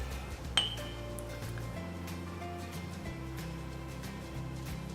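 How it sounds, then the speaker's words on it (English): A glass lifted off the middle of a chocolate star pull-apart bread dough gives a single bright clink near the start, followed by low kitchen hum and faint handling noises. "we're going to take the glass off of the middle"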